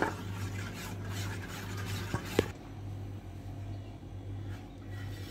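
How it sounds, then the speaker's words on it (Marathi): A spoon stirs salt into a batter for fasting-day dhirde, giving a faint, continuous soft swishing and scraping with a couple of light clinks against the bowl, and no voices. "मीठ आधी व्यवस्थित मिक्स करून घ्यायचं."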